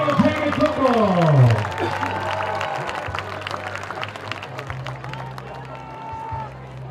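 Yellow Jacket high school football fans applaud and cheer for the seniors at a Lebanon, Missouri game, a broad wash of crowd clapping and hubbub with a sustained low tone, fading slightly toward the end.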